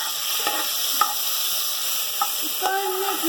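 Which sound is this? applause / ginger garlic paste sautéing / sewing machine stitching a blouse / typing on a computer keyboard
ginger garlic paste sautéing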